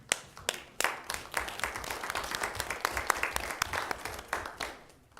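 City board meeting audience gives a round of applause for the police chief and police department members, with sharp, distinct hand claps building into steady clapping from a modest crowd nearby.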